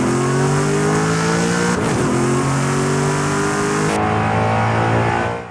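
A Forza Horizon 5 video game car engine revs hard and climbs in pitch, with a gear shift near the middle and another surge afterward, loud and continuous with no voices.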